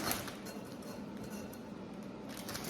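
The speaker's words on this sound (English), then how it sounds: "And then I just dump them in here after the seasoning." Seasoned sweet potato pieces coated in olive oil are dumped into a bowl, making soft, faint clinks and rustles that fade, then tap again at the end.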